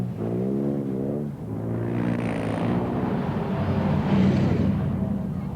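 A rally car engine drones and revs steadily on a North Lancashire or Cumbria country lane during a historic rally near Morecambe, heard loud and close with shifting pitch throughout.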